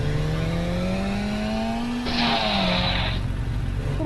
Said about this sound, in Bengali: দেখো তোমাদের ভাই কতটা সুন্দর বাইক চালাতে পারে।